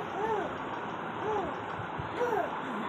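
A voice imitates a dog barking, giving three short, evenly spaced yelping barks at close range, fairly soft.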